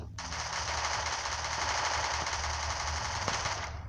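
Rapid automatic gunfire from the mobile battle-royale game Free Fire, a steady, dense rattle of shots lasting nearly four seconds at even loudness with no talk over it.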